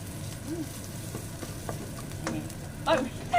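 Chicken is stir-fried with curry paste for a Thai khua kling of tough old chicken, giving a quiet, steady sizzle with a few scraping stirs and light clinks. A voice talks faintly in the background.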